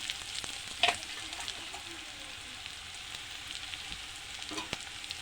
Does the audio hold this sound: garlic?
yes